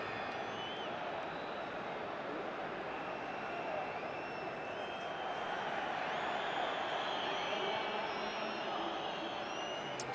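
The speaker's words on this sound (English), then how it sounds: "Just the fury of the crowd over in that far corner." Football fans fill a stadium with a steady, distant roar during a Europa League match, a constant wash of crowd noise with faint whistles and a commentator's voice mixed in.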